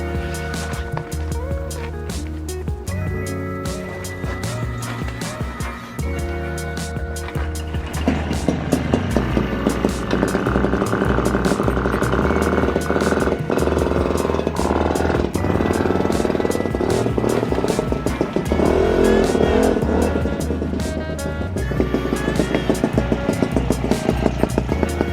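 Piaggio Ciao moped fitted with a new exhaust, its small engine running continuously and loudly up close with a steady buzzing drone that rises in intensity partway through.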